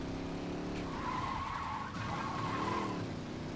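A car in the Saints Row 2 video game drives hard with a steady engine drone while its tires squeal and skid in long, loud screeches, with no talking.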